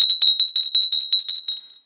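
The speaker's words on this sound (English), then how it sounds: "Did you hear a bell?" A small, bright bell rings in quick repeated strikes, about ten in under two seconds, with each ring fading into the next. It is clear and close, with no talk over it.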